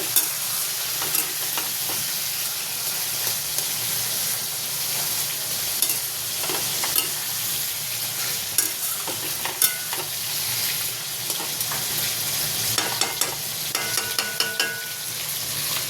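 Hilsa fish frying in a pan, a constant sizzle of hot oil up close, broken by frequent sharp taps and scrapes of a spatula or spoon stirring, with no talk.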